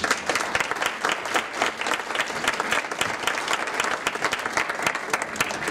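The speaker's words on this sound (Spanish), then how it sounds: "para quien le pido un fuerte aplauso" Loud, sustained audience applause fills a conference hall after a speaker on the right to information is introduced, dense clapping continuing steadily throughout without talk.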